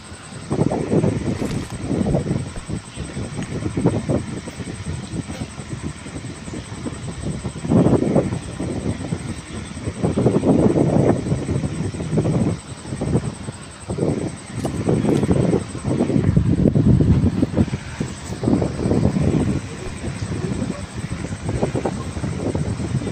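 An airplane drones in a PUBG Mobile match, a steady, windy rushing hum that swells and fades in gusts throughout, with no voices over it.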